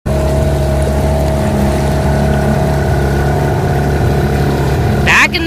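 A dinghy's outboard motorboat engine runs steadily on the water off a trawler in the Exuma islands, Bahamas, a loud continuous drone close by that changes briefly near the end.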